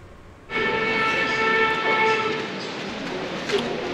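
At Greenfield Village a steam train starts up with a sudden loud hissing rush of steam that holds steady, with a voice briefly audible near the start.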